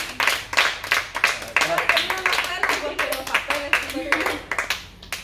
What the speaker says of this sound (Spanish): que se oiga ese aplauso para Katherine